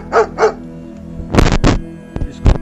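A dog barks loudly in a few sharp bursts, two short yips first and then a cluster of louder barks, close by in an outdoor village setting near a water source.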